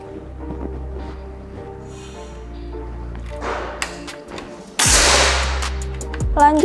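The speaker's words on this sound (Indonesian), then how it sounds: "Tembakan ketujuh." Close, loud report from a Gousuto Oria V2 air rifle firing once, a sharp crack that decays slowly, preceded by quieter handling clicks and rustles.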